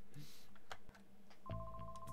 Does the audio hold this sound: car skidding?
no